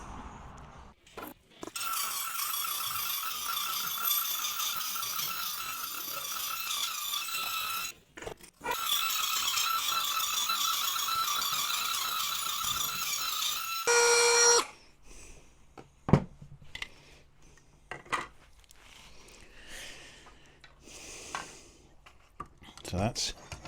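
A small Dremel rotary tool cuts off bolts on a 1/6 scale Armortek Tiger tank model, a high whine in two long bursts with a brief pause between, then quieter handling clicks and taps with some talking.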